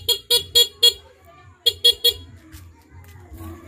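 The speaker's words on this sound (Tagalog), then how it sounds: "Yan yung loud horn, stock horn sir." A stock car horn sounding in two bursts of short loud honks, four then three, close and clear, followed by quieter engine rumble.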